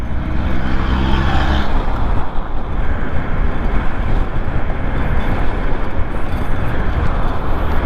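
Hsem Wings electric motorcycle with a 72-volt 3,000-watt motor cruising in third gear at about 70 km/h, a steady loud rush of wind and road roar with no pauses.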